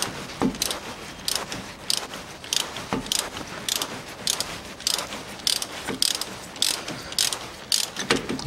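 Ratchet turning out a front stabilizer bolt on a 2000 Toyota Noah with a 3S-FE engine, a steady run of close, crisp clicking bursts repeating about every half second, with no voices.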